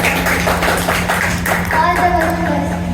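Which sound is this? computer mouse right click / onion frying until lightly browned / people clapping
people clapping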